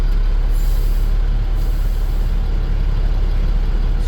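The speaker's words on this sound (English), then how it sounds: "And then I'm going to do the air brake test." A Class A truck's air brakes hiss loudly and steadily throughout an air brake test during a CDL pre-trip inspection, with no voices over the sound.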